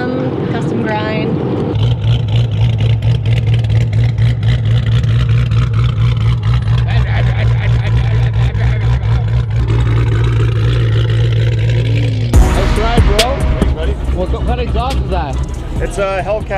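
A cammed 392 V8 in a 2012 car with a custom-grind cam, Hellcat OEM catback and American Racing long-tube headers idles with a loud, lumpy rumble and blips once near the end, under steady nearby conversation.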